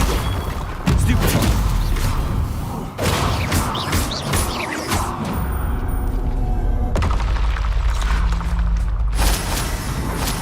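The Bombarda explosion spell goes off in Hogwarts Legacy amid a loud magical duel, with heavy booms, crashes and thuds layered over dense battle noise throughout.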